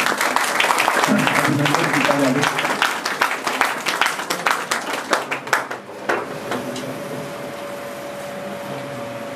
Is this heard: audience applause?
yes